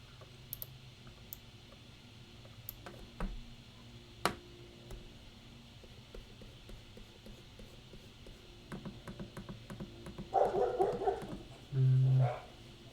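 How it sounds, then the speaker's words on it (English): A neighbor's dog barks a few times in the background, muffled and somewhat distant, amid soft clicking and tapping from drawing nearby. "That's the neighbor's dog,"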